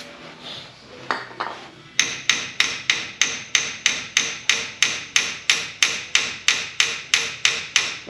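Small toffee hammer tapping rusted brake bolts on a Honda Vario scooter, a couple of scattered knocks followed by a steady run of about a dozen sharp metallic taps at an even rhythm, close up.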